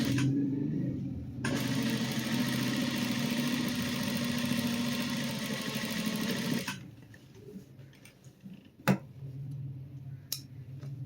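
Sewing machine stitching cufflinks, running in a steady continuous whir for about five seconds, then stopping, followed by a few sharp clicks and light handling noises.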